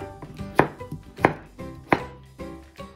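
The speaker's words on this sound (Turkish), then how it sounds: "Ve patatesimizi büyükçe parçalara bölüyoruz." A knife cuts a medium peeled potato into large pieces on a cutting board, three sharp, evenly spaced chops standing out over softer knocks and taps, close and clear in a quiet kitchen.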